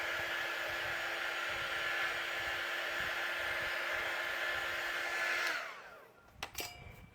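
A hair dryer blows steadily over a handmade notebook, a loud, even rush of air with a motor hum that cuts off before a few soft handling knocks.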